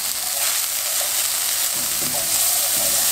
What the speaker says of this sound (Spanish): Echamos mantequilla, ya como ven está caliente el sartén.